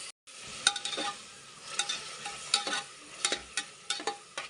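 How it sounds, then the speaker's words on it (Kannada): Chopped tomato frying in a little oil in a pan for a vegetable pulao, with a steady faint sizzle and repeated scrapes and clicks as the mixture is stirred, close and without speech. "ಸ್ವಲ್ಪ ಎಣ್ಣೆ ಜೊತೆ ಇದು ಫ್ರೈ ಆದರೆ ತುಂಬ ಚೆನ್ನಾಗಿರುತ್ತೆ"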